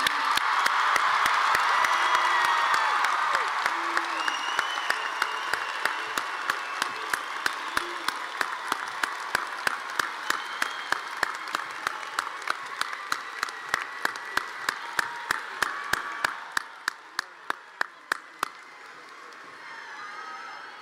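A graduation crowd at a high school ceremony claps and cheers loudly. The applause gradually thins into scattered individual claps and fades out near the end.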